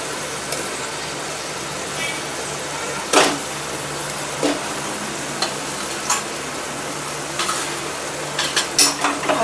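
Onions sizzling and frying in a pan for garlic onion pulao, with steady loud crackle and intermittent scraping stirs of a spoon against the pot.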